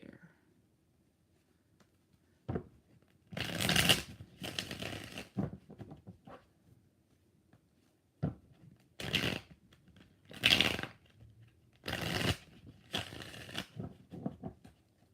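Several bursts of tarot cards being riffle-shuffled, each a brisk fluttering rush, separated by quiet pauses, recorded up close.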